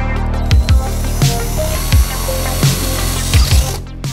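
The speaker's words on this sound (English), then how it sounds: "Let's try with my drill." A power drill whirs steadily into wood, with several short bursts and pitch shifts as the bit bites and eases off, close and loud.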